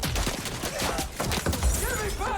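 Bursts of gunfire from a Battlefield V video game trailer, with bullets tearing through a building, rapid overlapping shots and impacts over a low rumble, fairly loud and dense.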